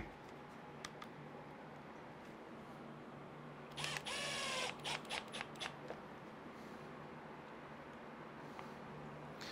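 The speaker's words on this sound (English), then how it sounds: "And let's screw the servo back in." A brief whirring burst from a power screwdriver driving a screw to fasten a Power HD servo back into a Losi DBXL-E 2.0 RC car, lasting under a second, then a few short ticks against faint background hiss.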